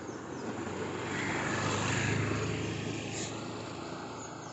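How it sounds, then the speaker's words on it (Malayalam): A scooter engine swells as it approaches and fades as it passes close by, a steady broadband motor hum rising to a peak and then tapering off, with no voices. "വണ്ടി വരുന്നു, സ്കൂട്ടർ."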